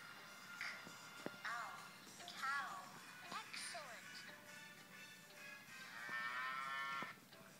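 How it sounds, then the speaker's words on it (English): Cattle low repeatedly at moderate distance on a farm, with several drawn-out moos spread across the scene and faint background noise between calls. "What does cow start with? Moo."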